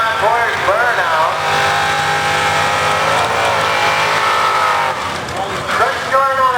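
A 4x4 mud truck does a burnout near a speedway, its engine roaring steadily and loud for several seconds, with rising revs and sliding tyre noise near the start and end, while people talk over it.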